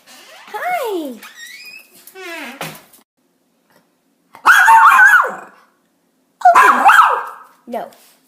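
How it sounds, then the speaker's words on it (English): A dog inside a house behind a garage lets out two loud, sharp bark bursts close by, after some high whining vocal sounds near the start. "You can already hear him barking."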